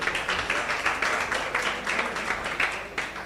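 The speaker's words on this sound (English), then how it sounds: "So clap for the media team." An audience at a youth policy and governance dialogue claps for the media team, giving a steady, dense burst of applause that carries through the whole stretch without talk over it.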